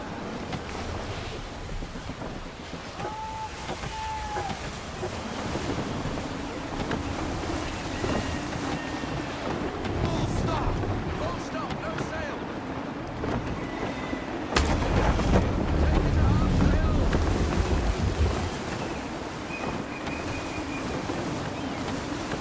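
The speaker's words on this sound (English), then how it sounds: "Gusty winds can be difficult to manage." Gusty wind roars steadily around a sailing ship at sea in Assassin's Creed 3, with broad rushing waves and wind buffeting that swell louder at times, with no talk.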